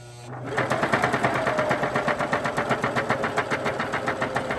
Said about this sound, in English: I'm just gonna sew all the way down.